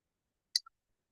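A single crisp computer mouse click, a short faint tick alone in silence.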